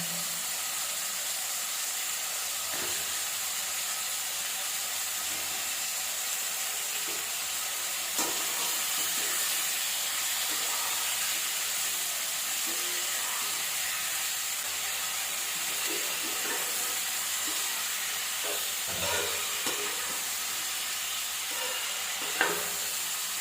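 Brinjal fries in oil for a chickpea and eggplant kara kuzhambu, a soft continuous sizzle running under light stirring and scraping sounds in the pan, with no voices.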